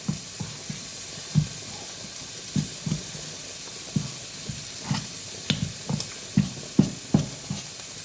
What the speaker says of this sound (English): Pancetta's cooking